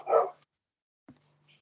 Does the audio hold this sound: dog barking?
yes